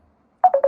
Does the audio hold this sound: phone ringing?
yes